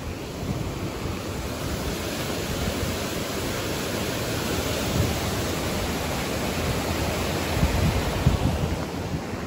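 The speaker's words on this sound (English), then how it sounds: "This is that waterfall I was showing you." A waterfall near an old mill in the Graniteville historic district of Westford, Massachusetts roars as a steady, loud wash of rushing water, close by and unbroken for the whole stretch.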